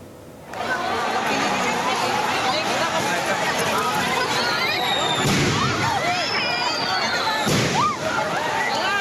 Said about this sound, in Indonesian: Masa aksi yang mulai kesal melemparkan petasan ke arah polisi yang tengah berjaga